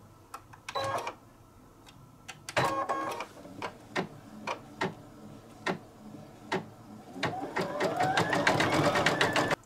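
A home embroidery machine stitches a dachshund tote design, its needle tapping in quick rhythmic bursts with short pauses and a rising whir near the end, close and moderately loud.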